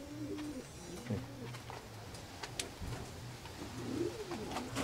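Pigeons in a loft coo in soft, repeated low rolling calls, several overlapping birds close by over a steady background murmur, with faint indistinct voices.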